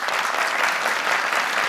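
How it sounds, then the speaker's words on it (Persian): An audience claps steadily on a family-feud style game show, a dense, even round of applause that fills the whole moment without a break. "دوستا تشویقش کنی."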